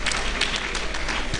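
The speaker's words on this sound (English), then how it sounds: "Let's give her a hand of applause." Audience applause at an economic summit session, a steady wash of clapping from a crowd filling the whole moment with no pauses.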